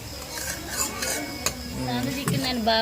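Gongura chicken curry being stirred in a pot, with quick scraping and clinking of a spoon against the metal under a low sizzle, close and fairly loud, the strokes coming in an uneven rhythm.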